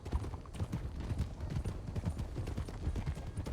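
Horse hooves clip-clopping in the western game RedM, a quick, even run of hoofbeats at close range, with no talk over them.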